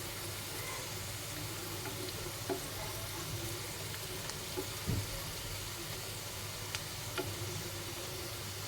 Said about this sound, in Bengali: এই স্পাইরাল পটেটোটা ভেজে নেব